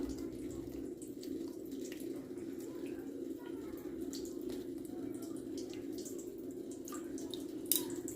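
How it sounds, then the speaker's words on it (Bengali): Strawberries rinsed under a running kitchen tap, a soft steady stream of water with scattered drips and splashes, fairly quiet and close, with no speech over it. "ভালো করে ধুয়ে নিই স্ট্রবেরিগুলো"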